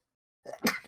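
A single close, sharp human sneeze bursts out of silence, with a short intake just before it.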